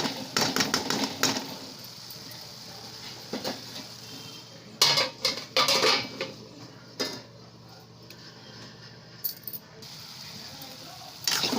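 A metal lid set onto a cooking pot of Malvani-style banana flower vegetable, giving scattered clinks and clatters of metal on metal, with a few sharper knocks spread over several seconds in a quiet kitchen.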